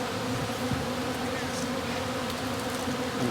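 Honey bees hum in a dense, steady drone around an opened top bar hive during a fall inspection, continuous and close with no speech.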